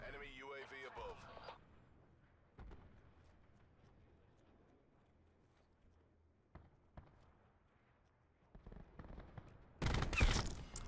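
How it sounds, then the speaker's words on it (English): Cluster grenades in Black Ops 4 hardcore free-for-all gameplay go off in a quick burst of loud explosions near the end, after a stretch of quieter scattered gunfire and movement. "Cluster nades again."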